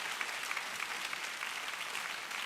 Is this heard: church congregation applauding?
yes